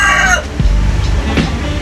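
A gamefowl rooster of the sweater bloodline, a golden boy breeding cock, gives one loud, close crow that rises and then trails off, standing alone with no talk over it.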